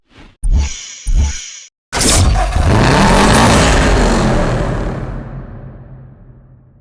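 Subaru car in Need for Speed Hot Pursuit, two short sharp engine blips followed by a loud sustained roaring rev with shifting pitch that fades out toward the end, no speech.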